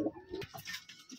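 Pigeons at a rajshahi gerebaj pigeon farm coo in short, soft, close bursts, a low throaty warble rising and falling over about a second with brighter chirpy sounds mixed above it.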